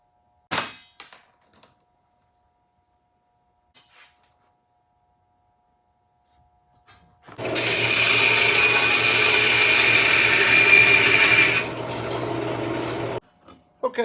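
A power tool cuts 3/4 inch aluminum rod into 20-inch pieces: after a few light clanks and quiet handling, a loud, steady, bright grinding cut runs for about six seconds and then stops abruptly.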